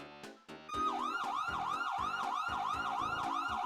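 An emergency siren sound effect played on a live stream, a loud wailing electronic siren sweeping up and down in quick repeated cycles after a few short sharp hits at the start, no talking over it.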